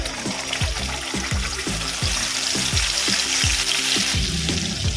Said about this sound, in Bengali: দেব কালো জিরা ফোড়ন কয়েক সেকেন্ড ভালো করে ভেজে নেব আমি এর মধ্যে দেব পোস্ত আর কাঁচা লঙ্কা বাটা